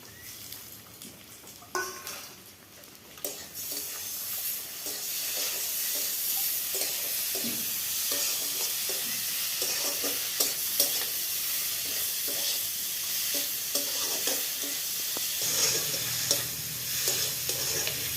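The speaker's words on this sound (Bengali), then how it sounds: "ওই তেলেতেই আমার চিংড়ি মাছটা মোটামুটি হালকা ভাজা হয়ে গেছে, আর আমার পেঁয়াজটাও রেডি হয়ে এসেছে।" Shrimp and onions with turmeric fry in hot oil, giving a close, continuous sizzle. Repeated scraping and clacking strokes from stirring in the pan cut through the sizzle at irregular intervals.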